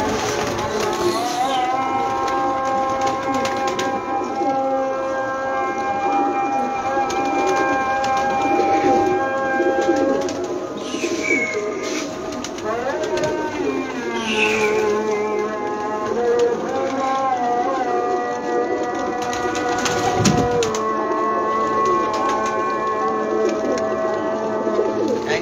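A large flock of around 150 to 200 pigeons coo and murmur continuously, close and layered, with a few wing flutters and background shuffling throughout.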